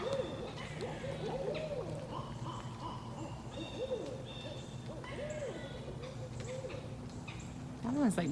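Two owls hooting back and forth in repeated, wavering, barking calls in Percy Warner Park, Nashville, fairly close, over a steady low background hum.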